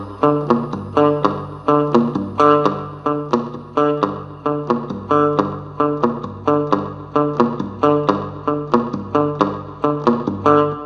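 Cigar box guitar played with repeated pull-offs and hammer-ons, a steady plucked pattern of bright, close notes over a sustained low drone, looping evenly without any voice.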